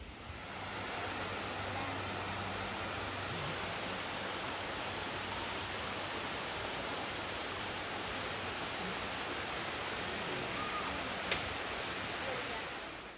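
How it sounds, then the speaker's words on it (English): Waterfall on the Appalachian Trail, a steady broadband rush of falling water that holds evenly throughout, close and dense with no pauses. "then we'll be back up to this waterfall"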